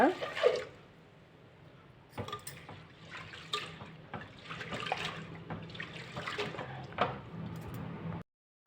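Close splashing and swishing of water in a bowl as toor dal lentils are rubbed and rinsed by hand, with steady sloshing and a few sharper splashes.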